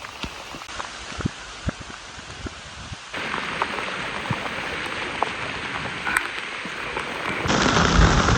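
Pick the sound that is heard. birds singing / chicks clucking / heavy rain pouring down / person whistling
heavy rain pouring down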